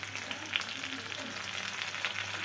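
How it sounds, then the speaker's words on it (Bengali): Chopped onions frying in hot oil for a goat meat curry, a steady soft sizzle with faint crackles and occasional small pops, close and fairly quiet with no talking. "পেঁয়াজ কুচিটা দিয়ে দিচ্ছি তেলের উপরে।"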